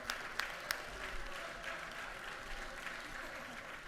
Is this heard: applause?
yes